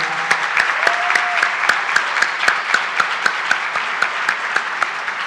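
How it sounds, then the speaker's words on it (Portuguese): Applause at an awards and closing ceremony for university athletics associations, a steady, fairly loud clapping with a few sharp, regularly spaced claps standing out from the crowd. "queria uma salva de palmas para eles"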